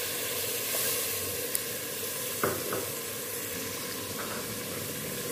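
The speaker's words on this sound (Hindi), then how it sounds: "ये मैंने इसके अंदर 1 ग्लास पानी डाल दिया।" A steady, soft sizzle comes from a pan where a glass of water has gone into a frying spice mixture for Pakistani mash dal, with a few light stirring clinks and no voices.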